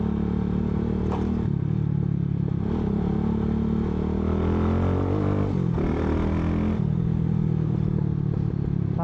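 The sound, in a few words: Mojo 200 motorcycle engine revving through muffler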